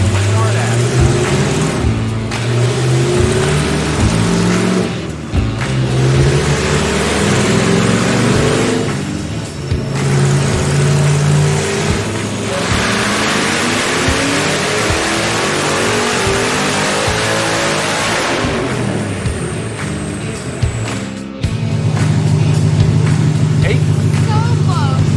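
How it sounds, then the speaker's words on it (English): A Savoy hot rod's engine revs hard on a dyno during tuning passes, with repeated loud climbing and falling roars and brief drops between pulls, the last stretch settling into a rough, steady idle. "we made a couple more passes on the dyno to work on the bass tune before we decided to mix in some nitrous"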